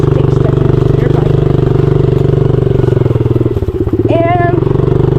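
Dirt bike engine idling and throttling on a wooded trail, a steady close-up drone with harmonic hum that briefly surges and revs near the end, with voices talking over it.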